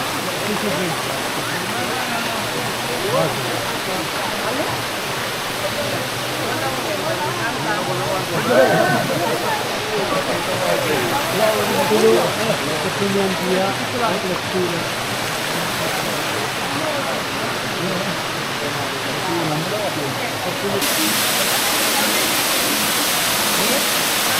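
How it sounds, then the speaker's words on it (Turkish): A small waterfall in Morocco roars as a steady, broadband rush of falling water, constant and close, with faint voices mixed into the wash. "Bu küçük şelaleye geldik şimdi."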